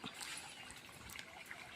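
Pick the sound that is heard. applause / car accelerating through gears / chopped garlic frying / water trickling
water trickling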